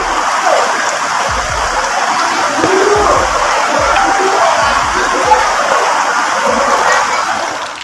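Flash flood of mud and rubbish surging through a street in West Sulawesi: a steady, broad rushing roar of water with low thuds of debris, loud and continuous throughout.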